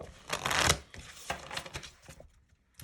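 Light Seers Tarot cards are shuffled up close, with a dense riffling burst followed by softer slides and taps as the deck settles.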